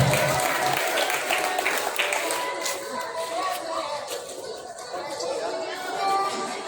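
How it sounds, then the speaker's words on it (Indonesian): A crowd applauds at a vocational school farewell and thanksgiving ceremony, with sustained lively clapping mixed with chatter and voices throughout, loud and close. "Oke, kasih tepuk tangan yang meriah sekali lagi Bapak Ibu sekalian."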